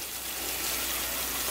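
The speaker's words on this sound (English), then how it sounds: "you fill it up with water, just like you kind of would the hot bath" Water gushes into a crock pot's removable insert from a tap, a brief steady rushing fill heard close and fairly faint for about a second and a half, with no voices.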